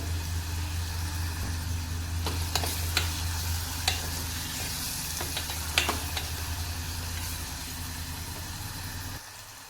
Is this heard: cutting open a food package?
no